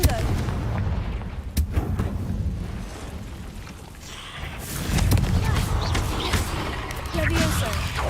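Blasts of the Confringo fire spell in the Hogwarts Legacy video game, bursting repeatedly over a dense, noisy game soundscape of rumbling effects and clatter, with talk in the background.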